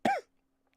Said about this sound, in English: Yeah, cough right in the microphone.